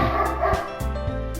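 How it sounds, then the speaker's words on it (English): A dog barks twice, short close yips with a whimpering tone, two quick sounds separated by a brief pause. "That's my dog."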